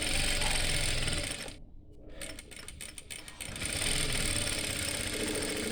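A sewing machine stitches along the cut edge of petticoat cloth, a steady mechanical running hum that briefly slows and stutters in the middle before resuming at full pace.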